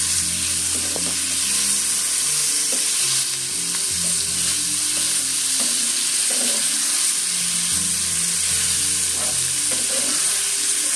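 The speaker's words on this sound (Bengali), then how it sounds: "তো এটাকে দেখো আমি ভালো করে ভেজে নিচ্ছি।" Vegetables with salt frying in a pan, a steady loud sizzle with scraping stirs recurring throughout, no voices.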